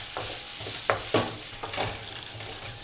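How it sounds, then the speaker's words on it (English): Seasoned meat with a Southwest spice blend is stirred in a hot pan, a steady sizzle broken by several scraping strokes of the spoon, close and fairly loud with no talking. "We're going to just stir that for 30 seconds or so to get it all mixed in."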